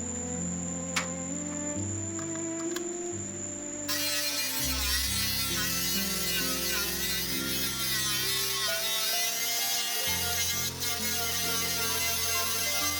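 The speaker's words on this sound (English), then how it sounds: "She switches to a random orbit sander on the broad panels." A random orbit sander works on the broad body panels of a Daewoo Cielo, a steady close electric whir that shifts pitch as pressure changes and runs continuously with no talk.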